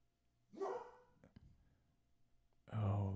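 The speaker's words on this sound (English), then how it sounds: "Dogs are barking." Dogs barking at home, a few sharp barks close by with a quieter whimper between, loud and alone.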